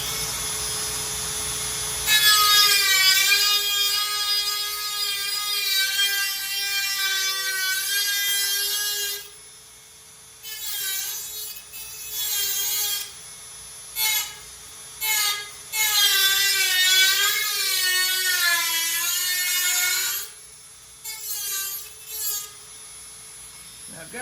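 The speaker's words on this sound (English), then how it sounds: "I'm going to try to cut that out with that little tiny cut-em-off wheel and see how we do." A small cut-off wheel grinding into a rusty car fender gives a loud, high, wavering whine in long passes, broken by brief pauses and short stop-start bursts as the tool is lifted and reapplied.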